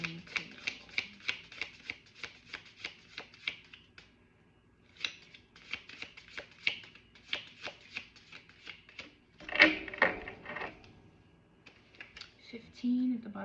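Rapid riffling bursts of cards being shuffled, several quick flutters in a row with short pauses between, close and crisp.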